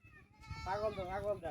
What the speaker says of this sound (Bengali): আমার যে ছাগলটা দেখছো